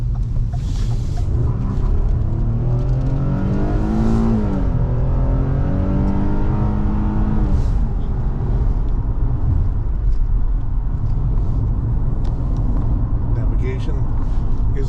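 A 2014 Ford Explorer SUV drives and swings through a U-turn, its engine rumbling steadily close by with a rising, shifting drone midway, while someone talks over it throughout.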